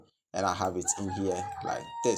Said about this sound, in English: Sorry for the chicken noise.